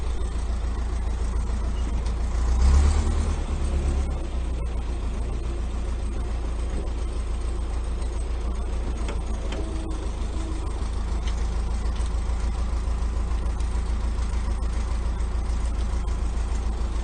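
Vehicle engine idling and working low while turning a trailer around at a shop extension, a steady rumble with a brief louder surge early on, then an even drone throughout.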